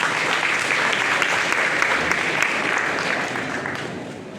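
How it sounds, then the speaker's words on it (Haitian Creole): An audience applauds graduates at a ceremony, steady dense clapping holding strong throughout before easing slightly toward the end, with no voices over it. "Je vous demande, chers amis, encore une fois, de les applaudir pour nous, s'il vous plaît"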